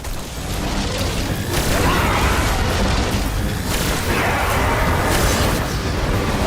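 Grenade explosions in the shooter video game Destiny, a dense, loud, continuous roar of booming blasts and rumbling debris that keeps swelling over several seconds.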